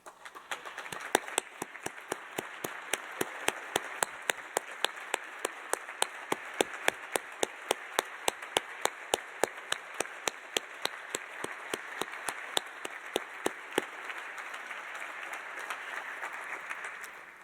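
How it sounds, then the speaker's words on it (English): Applause at a university scholarship luncheon honoring benefactors: sustained, even clapping from a seated crowd, a crisp continuous patter of hand claps holding steady for over fifteen seconds before easing off. "applause."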